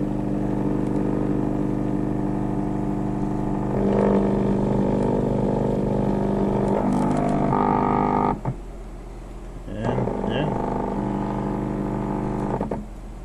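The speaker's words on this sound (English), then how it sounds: "By moving this, you can hear the motor moving." A stepper motor driven by a potentiometer-controlled driver, producing a loud continuous whining, buzzing hum whose pitch and tone shift as it turns one way and then the other, briefly dropping before resuming.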